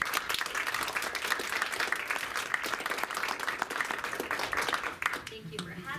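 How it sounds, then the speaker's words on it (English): A crowd applauds with dense, steady clapping for several seconds before it thins out near the end, when a voice begins speaking. "And I want to give Jessica a big round of applause for her."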